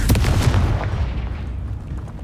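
A fiery Confringo spell explosion in Hogwarts Legacy booms heavily with a few sharp cracks in the first half second, then rolls into a fading rumble, loud and close.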